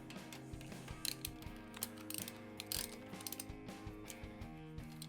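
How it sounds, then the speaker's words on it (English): A 1/4 inch ratchet tightening breather bolts on a Harley-Davidson air cleaner install, producing close, quiet rapid clicking in repeated short bursts with brief pauses between strokes. "Now we can go ahead and tighten those 2 breather bolts."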